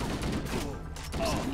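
Dense, continuous gunfire from Halo: Combat Evolved Anniversary Edition fills the short stretch, a loud, busy rattle of shots with game effects layered over it and no clear gaps.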